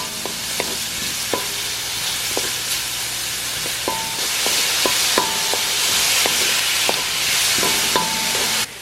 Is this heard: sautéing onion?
yes